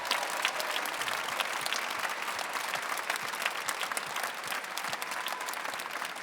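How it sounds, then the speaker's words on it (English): An audience at the London Palladium applauds, dense continuous clapping at an even level for the whole stretch, with no voices on top. "Let's give him a big round of applause."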